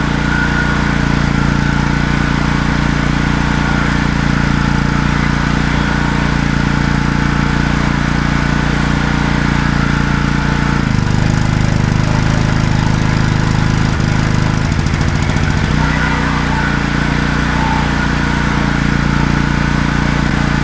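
A Wacker portable generator engine with a poorly running carburetor and no voltage output runs steadily and loudly throughout, a droning hum whose pitch dips and roughens for a few seconds midway before settling back.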